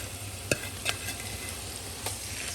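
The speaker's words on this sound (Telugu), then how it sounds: "ఇప్పుడు ఈ ఉడకబెట్టిన చింతపండు నూనెలో" Boiled tamarind sizzles in hot oil for instant pulihora mix, a steady close frying hiss with a few soft stirring clinks and no voices.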